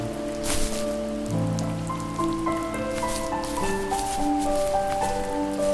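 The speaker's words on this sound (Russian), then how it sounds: "То, что дождь херачит" Steady rain pours down throughout a scene in the video game The First Tree, a continuous close patter heard alongside sustained musical tones.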